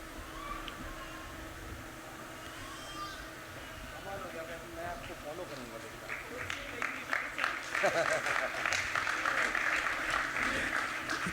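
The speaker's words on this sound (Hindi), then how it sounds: "चांद के लिए इतनी कम तालियां मजा नहीं आएगा" Audience at a women's singing competition stage event in the UAE starts clapping softly, then the applause swells to a fuller, louder patter in the second half, with a voice speaking over the quieter opening.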